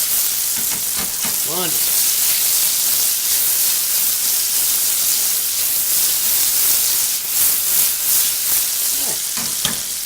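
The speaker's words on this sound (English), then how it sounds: "The onions are browning up lovely. And the tomatoes are softening up." Onions and tomatoes fry in a pan with a loud, continuous close sizzle and hiss, broken by occasional stirring scrapes and a brief spoken word.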